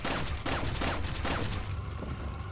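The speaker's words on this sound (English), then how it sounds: "I'm just gonna shoot you." Gunfire in the Resident Evil 4 video game, a burst of about four quick loud shots in the first half second or so, set over a dense, noisy game background.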